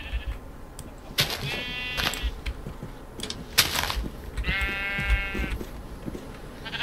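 Sheep in Minecraft bleat close by: several wavering bleats, two pairs of them spaced a few seconds apart, over a light background of soft game noises.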